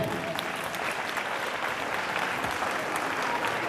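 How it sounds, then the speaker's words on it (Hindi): An audience at a children's science congress in a Chamba school gives loud, sustained applause for the judging team, a thick, uniform wash of many hands clapping throughout. "मैं चाहूँगा ये जजमेंट टीम जो भी आई है इनके लिए जोरदार तालियां होनी चाहिए।"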